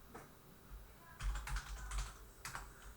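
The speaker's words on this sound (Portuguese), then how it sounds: "Então a gente vai digitar aqui CD cliente" Fast clattering keystrokes on a computer keyboard, bursts of quick taps with short pauses, close and quiet, no talking.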